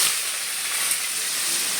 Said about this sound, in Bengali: এবার এর মধ্যে আলুগুলো দিয়ে দেবো